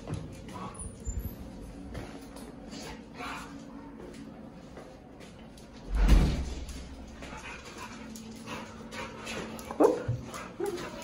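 A dog yips, whimpers and gives a couple of short barks at close range over a low room hum, with one louder burst midway and another near the end; faint indoor movement in the background.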